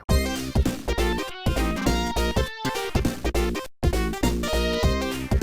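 Sonic video game music from the Sega 16-bit era plays loudly, bright layered synth melody over a driving bass line, with a few brief gaps between phrases and no voices.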